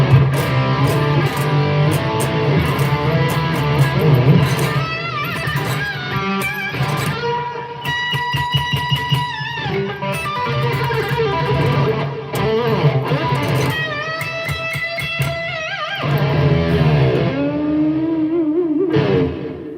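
Electric guitar played through a Bogner amp with light distortion, loud riffs and sustained chords with some echo, fast bursts giving way to ringing notes and a bending slide at the end, with no talking.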